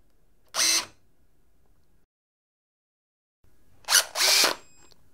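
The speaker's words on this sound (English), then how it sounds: "To trial the new stroke, first we need to set the fastener to the tool." NB08PT-18 cordless rivet nut tool setting a fastener: short bursts of motor whirr, one brief pull near the start, then after a pause two more quick bursts close together, crisp and close with silence between.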